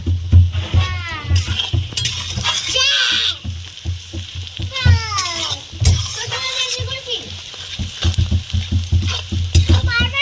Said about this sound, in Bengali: পেঁয়াজও ভাজা চলছে।